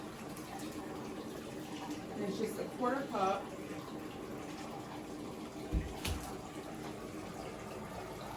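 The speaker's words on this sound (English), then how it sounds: "the first thing I'm gonna do is start filling it up with water" Water runs steadily from a tap into a tub being filled for laundry stripping, a constant soft rush beneath speech throughout, with a brief thump near the end.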